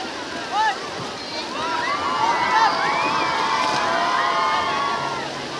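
A boat carries passengers over the sea off Daman, with steady water wash and engine hiss beneath lively overlapping crowd chatter and occasional raised voices.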